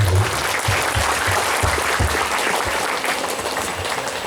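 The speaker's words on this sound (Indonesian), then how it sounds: "Tepuk tangan untuk kita semua." Applause from students at an Islamic boarding school motivational session, a steady wash of many hands clapping, loud and continuous throughout.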